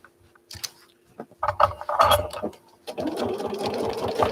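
A sewing machine quilts a vinyl-like fabric, running in short stop-start bursts before settling into a steady, continuous mechanical whir with rapid needle ticking, close and clear.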